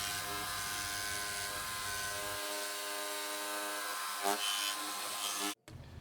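A jigsaw cuts an access hole in a soapbox car's hood, its motor giving a loud, steady buzzing whine that changes pitch partway through and then cuts off abruptly near the end.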